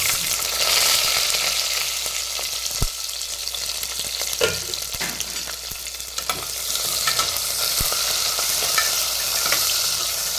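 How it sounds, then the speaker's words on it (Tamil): Onions and green chillies frying in a pan with spices give a loud, steady hiss and crackle, broken by a few sharp spatula knocks and stirring scrapes, close up with no voices. "இப்போ வெங்காயம் பச்சை மிளகா போட்டுக்கலாம்"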